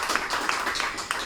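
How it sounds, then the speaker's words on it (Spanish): An auditorium audience breaks into brief applause, a dense wash of many hands clapping with a few sharper claps standing out. "Pido para ellos un aplauso de esta auditorio."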